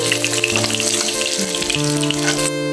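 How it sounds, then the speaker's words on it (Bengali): Pieces of shol fish fry in hot oil with a steady, close crackling sizzle, and tonal background music runs beneath it. "এইভাবে আমি সব মাছগুলোকে ভেজে নেবো"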